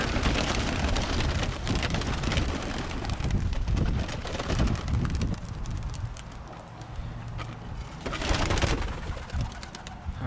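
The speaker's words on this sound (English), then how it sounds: "I'm gonna let the kit birds out and let them do their thing" Birmingham Roller kit pigeons released from a loft, with a dense burst of wing flapping and fluttering close by, swelling again near the end, alongside soft cooing and outdoor ambience.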